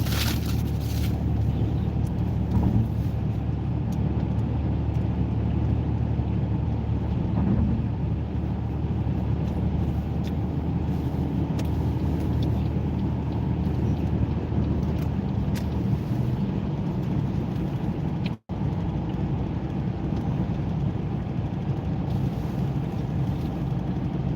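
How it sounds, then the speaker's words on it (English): Steady cabin rumble and road noise inside a moving Ford Mustang Mach-E electric car, a constant broadband drone throughout with one brief dropout. "This is a Ford Mach-E Mustang. It's electric."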